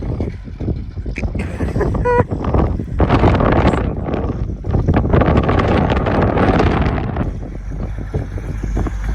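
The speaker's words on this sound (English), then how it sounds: "This is a very windy day" Strong wind on a dry, dusty day buffets the microphone in loud, gusty roaring surges that rise and fall, with a voice briefly heard underneath.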